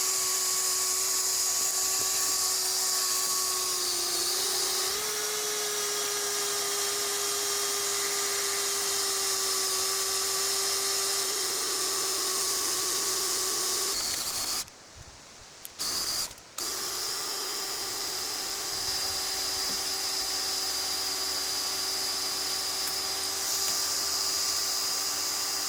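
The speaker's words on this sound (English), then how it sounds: "I can have the smaller drill powered winch that I can use to move around the log" A cordless drill driving a small capstan winch drones steadily, its high motor whine holding nearly constant with a slight pitch shift, broken briefly near the middle by a short burst of rustling noise, in an outdoor cabin-building setting with log rigging.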